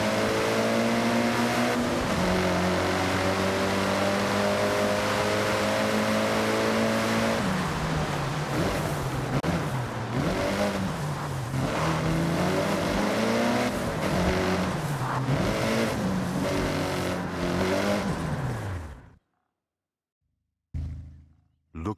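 Rally-prepared car in Forza Horizon 6 fitted with a turbo upgrade and anti-lag, its engine droning loudly and steadily, then climbing and wavering through gear changes and revs before cutting out abruptly near the end.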